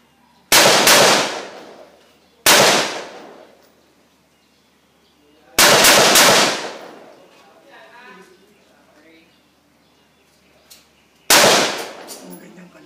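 Loud, close gunfire bursts from an outdoor shooting range, four sharp blasts each trailing off with echo, separated by quieter gaps.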